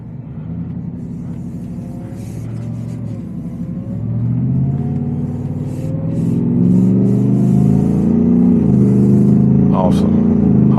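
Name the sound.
Shelby F-150 Super Snake supercharged truck engine and exhaust accelerating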